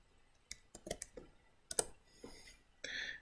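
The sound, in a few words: typing a measurement on a computer keyboard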